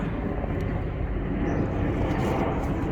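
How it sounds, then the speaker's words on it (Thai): An airplane passing over a house gives a steady, broad engine roar, moderately loud and continuous throughout, with no talking. "เครื่องบินก็ผ่านหน้าบ้านพี่เนาะ"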